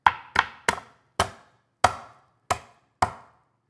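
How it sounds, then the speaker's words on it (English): A knife blade pressed down hard on a peeled garlic clove gives seven separate sharp whacks against a cutting board, each with a short decaying ring, spaced irregularly, close and fairly loud with no voice. "use the palm of your hand to apply pressure to smash down the garlic clove"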